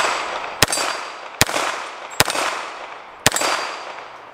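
Four sharp metallic rings spaced about a second apart as 9mm rounds from a CZ Scorpion strike steel target plates, each impact loud and bright with a ringing decay, no talking.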